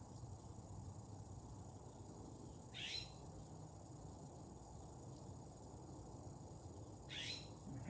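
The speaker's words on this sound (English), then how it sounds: "I don't know if you guys can hear, but the Blue Jay's back." A blue jay squawks outdoors on a quiet morning, two short harsh calls about four seconds apart, faint and distant over a steady low background hum.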